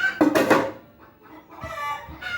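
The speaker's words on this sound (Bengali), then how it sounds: "দেখো কেমন চেঁচাচ্ছে মুরগিগুলো" Chickens clucking and squawking nearby in a loud, agitated burst, then fading and returning more quietly, with no talk.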